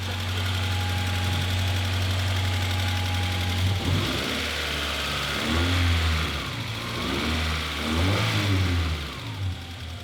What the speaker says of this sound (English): Engine's running.